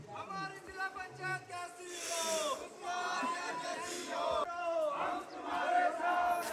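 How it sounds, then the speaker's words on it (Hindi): A large crowd chants and shouts together at an election campaign rally in rainy weather, loud and continuous with rising and falling voices throughout. "ये देखिए इतनी सारी भीड़।"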